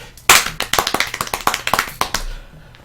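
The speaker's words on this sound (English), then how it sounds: "I'd like to give a round of applause to our producer." A short round of applause: a few people clapping in quick, uneven bursts nearby, tapering off after a couple of seconds.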